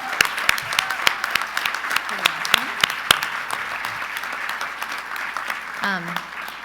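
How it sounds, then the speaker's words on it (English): A conference audience at the FACTOR 2023 event claps in scattered, fairly faint bursts, with a few whoops and some voices in the background. "So I think we should pause and clap and hoot and holler a little bit for that amazing milestone."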